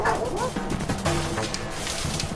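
A poodle yips and barks in short, uneven bursts at close range, set against busy background noise and other dog sounds.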